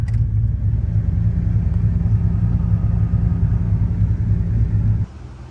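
The engine of a 2000 Chevrolet Silverado with an LS V8 idles steadily with the AC off, a close, loud, even low rumble that holds constant before dropping to a quieter hum at the end.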